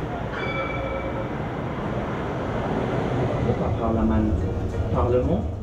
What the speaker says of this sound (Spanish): No es el tranvía de Zaragoza, pero muy similar